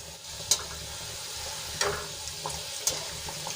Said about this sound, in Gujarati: આપણી કચોરી આછા ગુલાબી રંગની થાય ત્યાં સુધી આપણે એને તળીશું